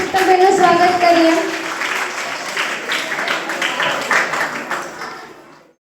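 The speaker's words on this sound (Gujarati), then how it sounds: "તો આવો તાળીઓના ગડગડાટથી શીતલબેનનું સ્વાગત કરીએ" Applause from an audience welcoming the principal to the stage at a coaching-class celebration. Dense clapping starts loud over a few overlapping voices, then thins and fades out.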